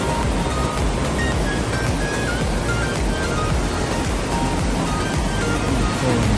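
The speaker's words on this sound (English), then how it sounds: "While walking towards the train wreck, we saw a waterfall" Constant roaring rush of a waterfall near Whistler, Canada, dense and loud throughout, with no pauses or voices.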